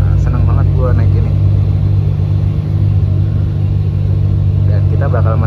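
Inside a front-engine Laksana SR3 bus with a Mercedes engine, a steady, loud low rumble runs continuously during rush-hour travel while someone talks over it at the start and end.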